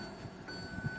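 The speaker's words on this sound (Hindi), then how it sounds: "ये सीट बेल्ट की आवाज़ आ रही है" Seat belt warning chime inside a Kia Sonet, repeating steady electronic tones heard faintly over low cabin rumble.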